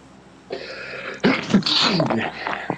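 A sharp sneeze bursts out close by after a brief quiet murmur, followed by a short noisy tail of breath and movement.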